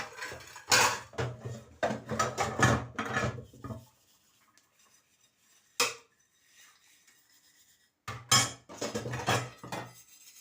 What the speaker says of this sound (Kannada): ಪಾತ್ರೆನ ವಾಶ್ ಮಾಡಿಟ್ಬಿಟ್ಟು